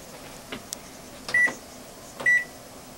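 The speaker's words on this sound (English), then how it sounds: "There's the beep." A pressure cooker's timer beeps twice while apple sauce cooks, two short clear electronic tones about a second apart over faint background hiss, with a few soft kitchen clicks beforehand.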